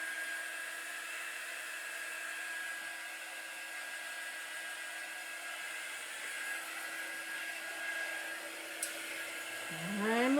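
Handheld dryer blowing on a book décor craft piece: a steady, high whirring hum with whining tones continues for the whole stretch, close and constant, shifting pitch slightly at the end.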